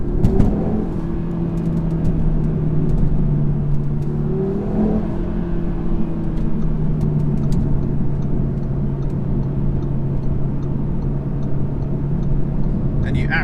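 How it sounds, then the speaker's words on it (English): A 2019 Audi RS3 engine thrums steadily and loudly from inside the car while driving, a continuous low drone with slight pitch shifts and no talk over it. "I love the thrum of this engine though."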